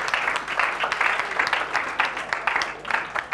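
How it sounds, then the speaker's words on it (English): A trade union talk's audience breaks into dense, steady applause, many hands clapping together at close range. "Thank you for the applause"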